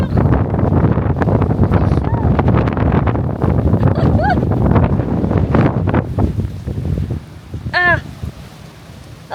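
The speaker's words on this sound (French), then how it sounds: "je peux même pas me retourner tellement il y a de vent, il y a du sable à la figure." Loud, steady sandstorm wind in the Sahara buffets the microphone with rough rumbling gusts, easing near the end where a voice briefly speaks.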